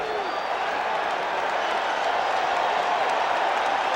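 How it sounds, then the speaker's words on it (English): Crowd at Shea Stadium during Game 6 of the 1986 World Series, a steady, loud wash of cheering and clapping filling the whole stretch without pause. "this crowd came here to make some noise tonight"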